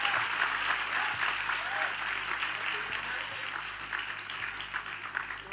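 A crowd claps at a live night-time rebana and selawatan performance, a steady, fairly loud patter of applause with voices and a low hum running underneath.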